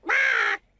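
A pet parrot gives one loud, harsh squawk about half a second long, close by, followed by near silence.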